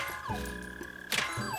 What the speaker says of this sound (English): I think they're called mole crickets. One of the underground crickets on this chunk of land. It's gonna be making noise the whole time we're here.